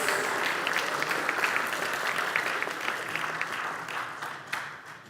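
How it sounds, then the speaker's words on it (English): A church congregation in a sanctuary claps for the choir, a dense, moderately loud, steady round of applause lasting the whole stretch. "people want to clap for you"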